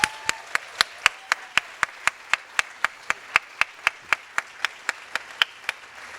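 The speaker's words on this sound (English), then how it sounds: "Please join me in a very loud round of applause for Dennis Rose and Hahn Loeser." Sharp single hand claps at an all-school assembly, a steady even rhythm of about four per second, close and distinct over a quiet room background.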